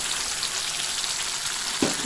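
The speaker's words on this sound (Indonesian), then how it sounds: "Cabai yang sudah dihaluskan tadi digoreng dengan minyak panas." Ground red chili sizzles in hot oil for a Padang-style home dish, a steady, close frying hiss with one brief knock near the end.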